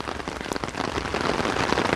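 Steady rain patters densely on surfaces during river flooding in Korea, a close, continuous hiss of drops with no voices.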